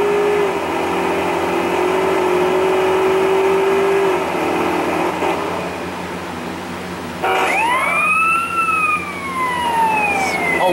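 Ambulance siren in Grand Theft Auto San Andreas: a steady tone gives way to loud rising and falling wails after a crash, with game traffic noise underneath.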